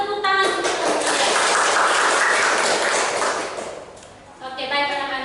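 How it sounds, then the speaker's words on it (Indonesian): Classroom applause from a group of students, a burst of brisk, fairly loud clapping that fades out near the end, with voices talking before and after it. "Tepuk tangan untuk kalian."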